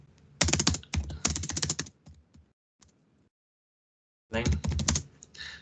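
Quick bursts of typing on a computer keyboard, close and clear, with pauses between runs and a brief silence before a final burst.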